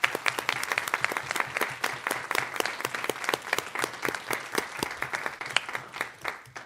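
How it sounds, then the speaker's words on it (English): Audience at a State Board of Education meeting gives a round of applause, a steady, moderately loud patter of many hands with no talk over it. "Please join me in giving Annie a round of applause."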